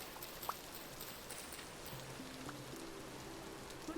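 Steady, soft rain hisses in the video game Vintage Story, a faint continuous wash with a few scattered drips and quiet tonal game sounds underneath, no speech.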